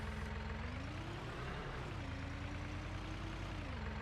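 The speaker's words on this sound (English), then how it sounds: "I'm squishing the grass down with the tractor." A tractor engine in the Farming Simulator 19 video game runs steadily at close range, a constant low diesel drone with a slight rise and dip in pitch as it rolls over grass.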